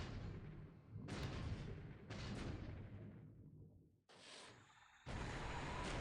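Torpedo explosions hit a ship in the War in the Pacific video game: several heavy booming blasts, each cutting in abruptly and then fading. They sound loud and close, with no speech.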